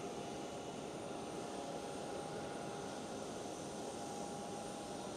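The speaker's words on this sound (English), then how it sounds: "Little E195E2 on the roll on its afternoon" An Embraer E195-E2 jet rolls for takeoff at Amsterdam Schiphol, heard as a faint, steady, distant engine roar that holds unchanged from start to finish.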